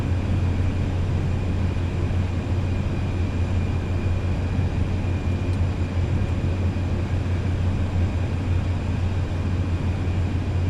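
An airplane taxis on the ground in Microsoft Flight Simulator 2020, a steady, loud engine drone with a constant low hum that holds unchanged throughout.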